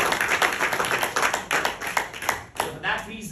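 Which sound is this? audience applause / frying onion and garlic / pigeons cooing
audience applause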